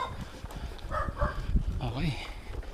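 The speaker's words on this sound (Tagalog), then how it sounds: "Ito yung aso." A dog on a rural hillside trail during a group mountain ride makes short barks and whimpers, fairly close, mixed with people talking and outdoor noise.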